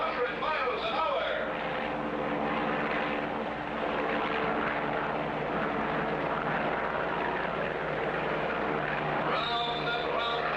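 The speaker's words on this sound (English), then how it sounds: "Folks, that plane is traveling at 100 miles an hour." A cartoon propeller plane drones steadily throughout at about 100 miles an hour, its engine hum continuous and moderately loud under an excited announcer's voice and other talk.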